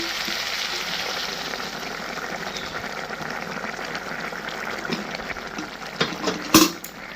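Jackfruit curry sizzles steadily in a pan, then hot water poured in brings a louder hissing surge near the end, heard up close.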